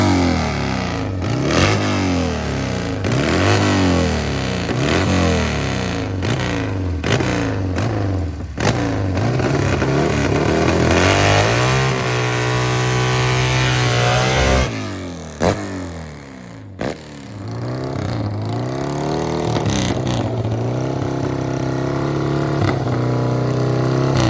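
A Harley-Davidson and a nitro-fueled Triumph motorcycle racing, with loud repeated engine revs climbing through gears, a sustained high-pitched wailing run mid-way, then more revving and a steady drone near the microphone.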